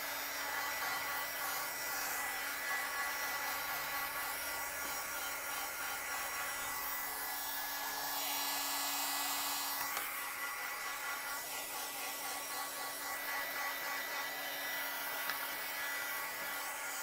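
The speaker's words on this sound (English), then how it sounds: "So I'm just going to blow dry this before I turn the page." A hair dryer blow-drying a page of a visual art journal, a steady continuous whooshing hum with a slight shift in tone midway as the airflow moves across the paper.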